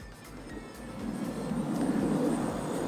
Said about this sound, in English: This is a really good beginner aerobatic plane